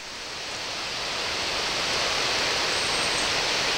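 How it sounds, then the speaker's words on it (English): Bandy Creek in Big South Fork, Tennessee, flows in a gorge below as a steady, broad rushing hiss that slowly swells in loudness, with no voices. "I can still hear the creek down in the gorge below"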